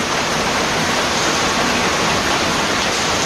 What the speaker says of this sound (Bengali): বৃষ্টি চলছেই একভাবে